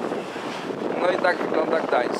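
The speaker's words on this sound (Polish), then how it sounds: "Płyniemy tutaj naszą łodzią" A small hotel boat motoring along the Motława river in Gdańsk, its steady engine and water wash overlaid with wind buffeting the microphone, while a voice speaks over it.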